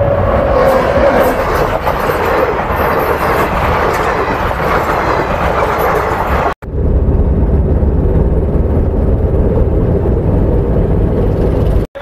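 A train rolls past a railway level crossing, close and loud, a continuous heavy rumble and rattle of wagons with a brief drop-out partway through.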